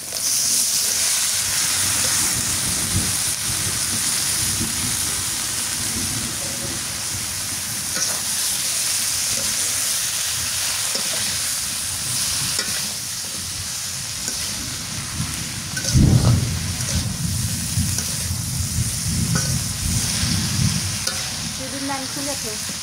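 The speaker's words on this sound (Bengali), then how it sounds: "তরকারিটা ঢেলে দিই" Curry poured into a hot pan over a paste of onion and garlic in a village kitchen, giving a loud continuous sizzle and hiss with stirring scrapes, swelling in a brief burst partway through.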